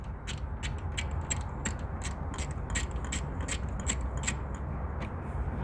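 A ratchet with a 10 mm half-length socket works a bolt on a 2009 Toyota Camry 2.4L engine, a faint, rapid run of light metallic clicks repeating steadily over low background noise.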